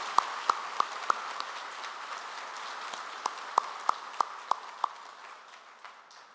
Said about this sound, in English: How about a round of applause for those teams and drivers that did so well for us this year?